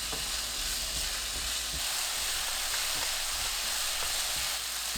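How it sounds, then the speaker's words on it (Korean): Garlic and onion stir-fry in olive oil in a pan over medium heat, giving a steady, dense sizzle with faint scattered crackles and no talking. "팬에 올리브유 3큰술, 마늘, 양파 넣고 중불로 3분 볶아주세요."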